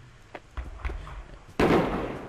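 A firework gun fires in the physics game Human Fall Flat, several soft popping thuds followed by a louder bursting whoosh that trails off.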